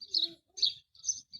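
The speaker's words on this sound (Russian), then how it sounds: "Ребята, кто же это чирикает?" Birds chirp in short bright bursts, four quick calls in a row with brief gaps between them, close and fairly loud, with no talking.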